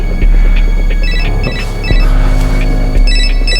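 An electronic phone ringtone chirps in short repeating bursts over a low steady hum, fairly loud, with no one speaking.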